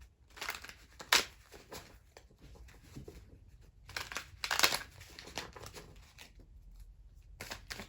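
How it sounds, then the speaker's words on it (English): A deck of tarot cards is shuffled by hand, giving soft papery riffles and crisp flicks in irregular bursts, close and quiet with no voices. "I'm going to shuffle the cards ahead of time and then do the spread"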